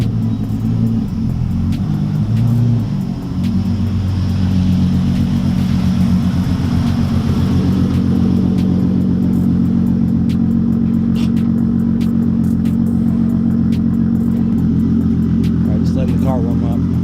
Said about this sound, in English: Car warm up,